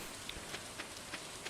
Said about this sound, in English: It's raining, which is why the community center didn't open today.